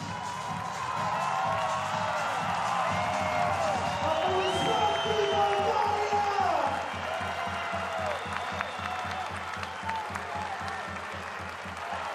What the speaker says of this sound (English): those home fans rightly applauding their players